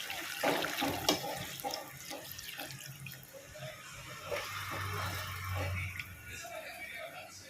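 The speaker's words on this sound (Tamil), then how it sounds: "இப்போ தண்ணி ஊற்றிக்கிறேன்" Water runs and splashes from a tap into a vessel, with clattering and brief voices in the background.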